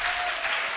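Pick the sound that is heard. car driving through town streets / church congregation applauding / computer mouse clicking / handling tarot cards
church congregation applauding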